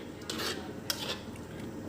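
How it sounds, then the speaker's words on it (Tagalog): A spoon scrapes softly around a pan as fresh cream is stirred into butter chicken sauce, with two or three brief metallic strokes over a quiet, steady background. "So, lagyan na natin ng fresh cream. Yan guys, haluin natin."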